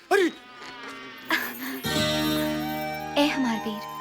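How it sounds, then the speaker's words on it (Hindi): Bees buzzing in an attacking swarm, a tonal drone that rises and sways in pitch, loud and close, with several voices and shouts over it. "अरे मधुमक्खियों ने आक्रमण कर दिया है।"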